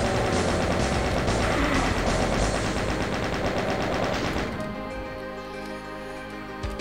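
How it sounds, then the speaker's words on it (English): A chaingun fires in Doom's Eviternity 2 played in GZDoom, a loud rapid stream of shots for about four seconds before cutting off, leaving quieter mechanical game sounds behind. "I guess we have to chain gun you"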